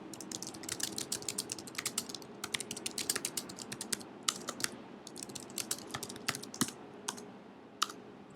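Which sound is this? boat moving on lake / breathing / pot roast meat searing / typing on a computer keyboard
typing on a computer keyboard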